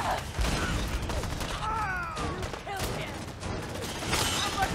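Rapid bursts of gunfire ring out in the video game Fallout 4, loud and dense with mechanical clatter, while a person speaks briefly in between.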